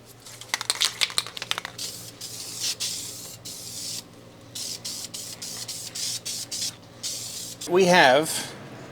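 Gold paint sprays from an aerosol can onto a finned aluminum valve cover in a run of short hissing bursts and pauses, close up, ending with a brief rattle.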